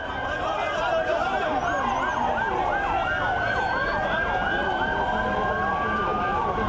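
Several ambulance sirens wail at a minibus crash scene in Güngören, overlapping and sweeping up and down continuously, loud and close amid traffic and crowd noise.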